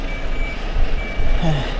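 A large vehicle passes on a road at night in Korea, a steady low rumble with a reversing beep and a brief brake-like squeal over outdoor ambience.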